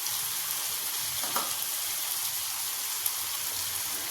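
Spice powders such as turmeric and chilli sautéing in hot oil in a pan for an eggplant and potato curry, a steady soft sizzle with a faint stir or two.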